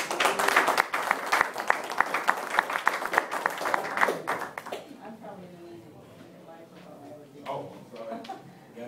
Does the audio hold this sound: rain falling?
no